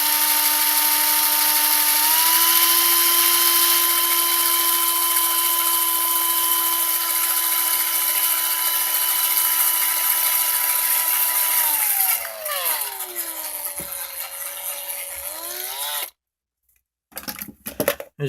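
Power drill boring into copper pipe while shaping a hair clip, a steady loud whine that sags in pitch as the bit bites, then cuts out with a few short clattering knocks.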